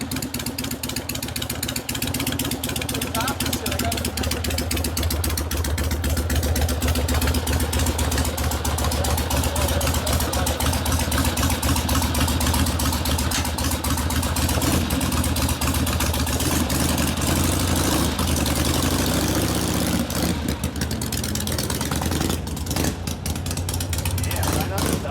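A 1970 Harley-Davidson Sportster XLCH Ironhead rigid chopper runs close by and loud, its lumpy, throbbing idle continuous throughout, with voices talking over it now and then.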